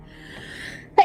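A single short, sharp sneeze bursts out near the end after a quiet indrawn breath, close and brief.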